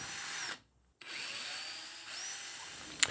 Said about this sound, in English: I'm going to have to dig out or drill out the top bit and go